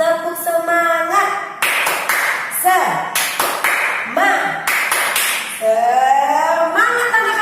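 A group of young children in a church class does a rhythmic clap-along cheer, bursts of quick hand claps alternating with loud chanted voices in a lively, steady beat.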